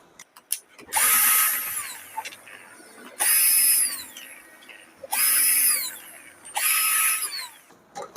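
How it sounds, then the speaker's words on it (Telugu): Four bursts of a power driver or drill whirring as the nuts of a microphone unit are removed, each lasting about a second with short pauses between, close and loud. "ఇప్పుడు మనకి నాలుగు నట్లు ఇప్పేద్దాం"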